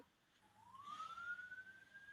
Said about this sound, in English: Oh, we got sirens, Kyle Duck.